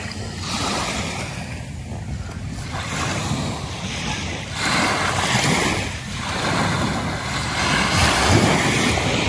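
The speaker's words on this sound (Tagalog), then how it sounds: "Dagat, di ba?" Sea waves along the coast at Lobo, Batangas, a continuous wash of surf swelling and receding in slow surges, with wind buffeting the microphone and no talking.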